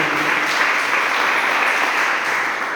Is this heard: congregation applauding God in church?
yes